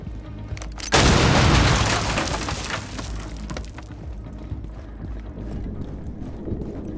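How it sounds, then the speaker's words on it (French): In a video game, a demolition charge blows up a wall: a sudden loud explosion bursts out after a brief quiet moment, roaring and rumbling for a few seconds before fading into a low, steady background hiss. "Place une charge et fais-la exploser."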